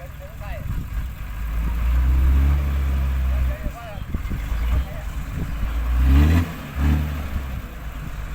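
A stalled farm tractor's engine revs up and down loudly and close by in several surges, with people talking over the noise.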